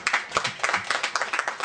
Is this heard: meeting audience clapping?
yes